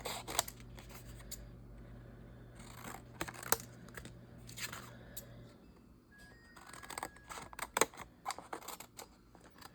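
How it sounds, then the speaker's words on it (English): Scissors snip during a crafting session in a series of quick, dry, close cuts with short pauses, fairly quiet and with no voices. "I'm gonna willy-nilly cut like Cindy always does."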